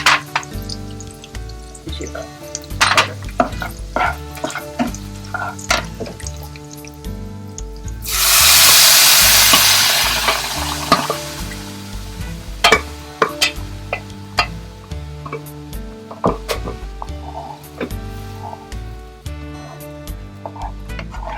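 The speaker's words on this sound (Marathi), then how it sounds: "छान खमंग फोडणी बसलेली आहे." Asafoetida, garlic, red chilli powder and chaat masala hit hot oil for a dal tempering, giving one loud hissing sizzle that lasts about two seconds mid-way, set against steady background music and light clinks.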